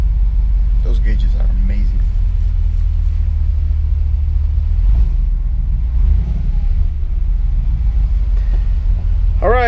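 A custom Jeep TJ engine rumbles steadily close by, with a deep low drone running throughout and a short speaking voice over it.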